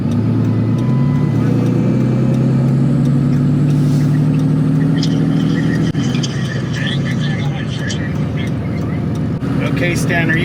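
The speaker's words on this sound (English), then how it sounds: "Car coming to our right." A car passes on the road during a building haul under an overpass, its steady engine and tire rumble loud and close throughout, with a vehicle engine droning low beneath people talking.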